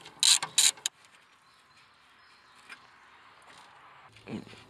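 A 10 mm ratchet works on the upper radiator hose clamp of a Yanmar engine, giving a few sharp, close metallic clicking bursts in the first second before quiet workshop stillness and a faint knock near the end.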